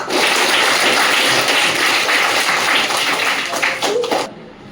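A seated audience at a spiritual talk on the Bhagavad Gita claps together, dense sustained applause that fills the space for about four seconds before tapering off abruptly.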